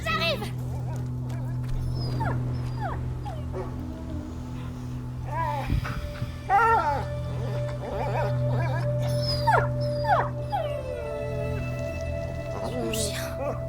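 The dog Lion in A Plague Tale: Innocence whimpers and lets out short whining howls, scattered yelps rising over a steady low drone, with a person talking at times alongside.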